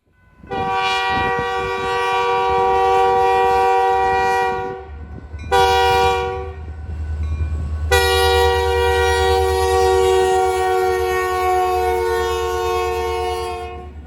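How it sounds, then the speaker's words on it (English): A freight train's horn blasts in long loud chords at a road crossing: a long blast, a short one, then another long sustained blast over a deep rolling rumble. "What we got here is them hitting the crossing. Let's take a listen."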